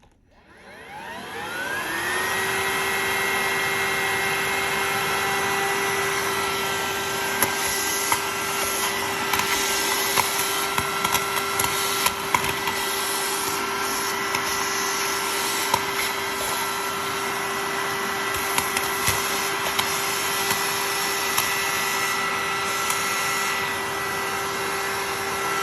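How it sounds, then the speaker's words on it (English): A VacLife VL726 portable vacuum cleaner switches on and spins up to a steady, loud motor whine with a high tonal hum, running continuously at close range, with scattered rattles and bumps as it is used. "Now here's a quick demo with the vacuum."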